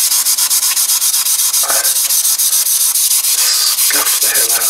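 Steady rhythmic scuffing of a plastic Jinlun 125 Chinese motorcycle part with abrasive, a continuous close sanding rub with repeated back-and-forth strokes and no talking.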